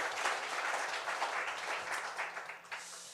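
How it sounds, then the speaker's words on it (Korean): A church congregation claps during a Sunday worship service, a soft, fairly distant wash of applause that rises and thins unevenly over a few seconds. "우리 하나님께 영광의 박수 올려드립니다."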